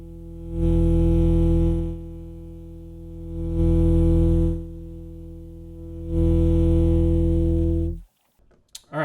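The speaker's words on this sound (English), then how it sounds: "that ends up giving you that really, really low bass sound" Saxophone run through an effects pedal that adds a very low bass tone, three long sustained notes with gaps between, fairly loud and alone, ending in a short clatter.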